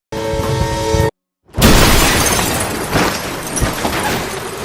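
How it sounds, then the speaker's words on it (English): A car crash from the film Whiplash, heard as a loud shattering impact. A steady tonal passage cuts to a brief silence, then a sharp crash bursts in and is followed by several seconds of dense, crunching, rumbling debris noise. "His car crashed."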